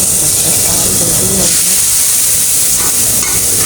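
Loud, steady sizzling of a spice tempering hitting hot oil fills the clip, a continuous close hiss with crackling texture.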